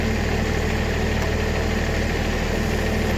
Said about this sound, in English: Got the backhoe, why not use it?